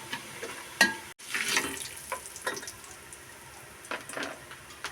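Tomato murukku deep-frying in hot oil gives a steady close crackle and bubbling fizz, with a few brief louder pops and clatters from stirring or lifting the pieces, and no talking.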